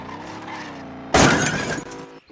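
A car in a street racing video game drives with a steady engine drone, then slams into something in a sudden loud crash of breaking, shattering debris that rattles on for about a second before fading.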